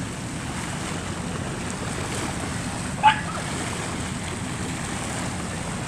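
Sea waves wash steadily onto the shore at Songkhla, a continuous broadband surf roar with wind buffeting the microphone and one brief faint sharp sound midway.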